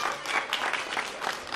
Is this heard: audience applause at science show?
yes